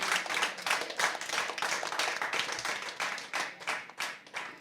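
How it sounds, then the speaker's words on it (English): Steady, dense applause from a spelling bee audience, many hands clapping at once and sustained throughout, with no talking over it. "Please, another round of applause for our students."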